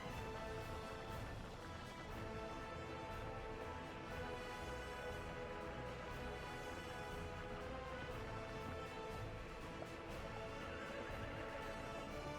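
Horses whinny and neigh repeatedly over a dense, steady wash of Workers & Resources: Soviet Republic game ambience and clatter, with no talking.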